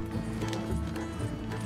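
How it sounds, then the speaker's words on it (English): Horse hooves clip-clop as a horse approaches in Red Dead Redemption 2, a steady trotting rhythm under a dense, loud game soundscape. "the horse is coming as well"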